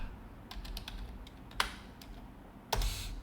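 Someone types on a computer keyboard, scattered quiet key clicks with a few louder taps standing out, alone without speech.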